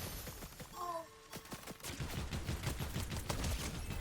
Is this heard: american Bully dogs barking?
no